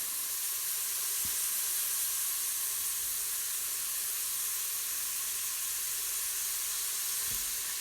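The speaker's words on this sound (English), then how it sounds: "And just let these saute." Ingredients for a chuck roast sauté in the hot pot of an Instant Pot, giving a steady, even sizzle and hiss that runs unbroken throughout with no talking.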